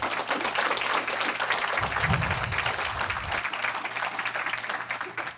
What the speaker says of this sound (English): Can we just take a minute here and have a round of applause for all of our interns and our wonderful campus partners who do that work with us?